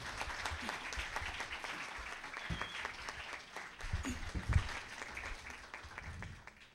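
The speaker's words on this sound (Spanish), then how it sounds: "agradecemos al profesor Juan Soto por su asistencia en esta conferencia, al cual le pido un gran aplauso." Audience applause at a university psychology conference book presentation, steady moderate clapping filling the whole stretch with a few louder thumps near the end.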